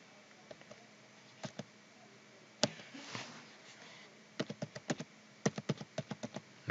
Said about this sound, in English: I'm just typing in a crazy number there.